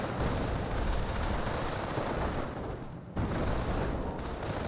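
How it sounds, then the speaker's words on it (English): Sporadic gunfire in the Company of Heroes video game, a dense crackle of distant shots and battle noise that continues steadily with a brief dip, no talking. "Sporadic gunfire over here."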